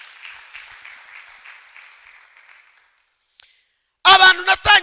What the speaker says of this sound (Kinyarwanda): Komera Imana yawe amashyi